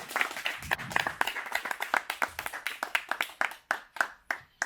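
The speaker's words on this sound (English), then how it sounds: "So a big round of applause for the foundation team" A crowd at a company annual meeting in Goa claps steadily, with dense, overlapping handclaps forming a continuous round of applause throughout.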